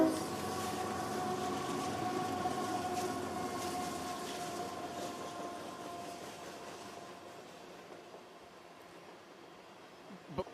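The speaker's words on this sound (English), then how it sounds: "It's probably a 100-car train" A CSX freight train of roughly 100 cars rumbles past with a steady rolling roar and a sustained horn-like tone that slowly fades over about ten seconds, no voices.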